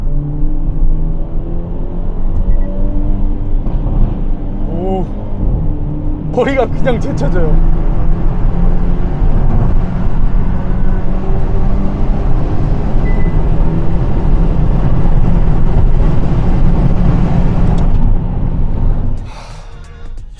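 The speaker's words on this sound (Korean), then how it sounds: "터널에서 어느 정도 소음이 나는지 한번 느껴보도록 하겠습니다" A Hyundai Avante N performance car runs through a tunnel with a loud, constant low engine and road roar and a surge of revs midway, while a man in the cabin talks over it and gasps.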